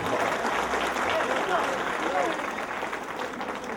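Crowd applause at a welcome ceremony for a political leader, steady clapping mixed with loud chatter and voices, slowly easing off toward the end.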